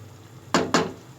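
Two quick clinks of a spoon against a pot as crushed coriander and cumin are stirred into beef karahi, close and sharp, with no talk.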